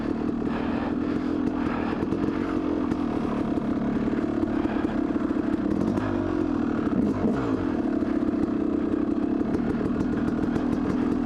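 A Yamaha YZ250 two-stroke enduro dirt bike runs steadily while being ridden, its engine buzzing and revving with rising and falling pitch and clattering mechanical noise, close and loud throughout with no talk.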